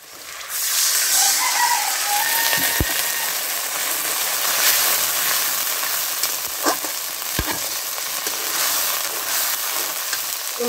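Spices fry in a pan over a stove while fish is cooked with salt, onion and green chilli, giving a steady close sizzle with a few sharp clicks and taps mixed in.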